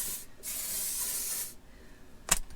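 Hairspray hisses from an aerosol can in two bursts, one brief and one longer and steady, close to the microphone, followed by a small click or tap.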